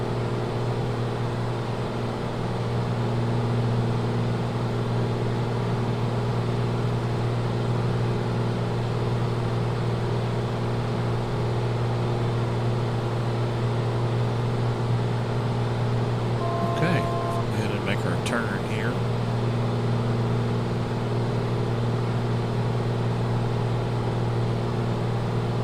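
A Black Square A36 single-engine aircraft drones steadily in flight in MSFS 2024, a constant loud engine hum holding throughout, with a short burst of clicks and chimes partway through.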